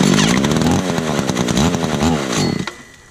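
A Stihl 015 arborist chainsaw that fails to start sputters loudly and up close for a few seconds, its rough engine buzz surging and wavering before it cuts out abruptly into quiet.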